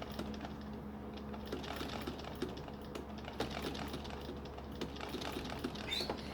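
An antique quilt being couched on a sewing machine, stitched slowly with a long stitch, gives a steady low mechanical whir with faint clicks that runs on throughout.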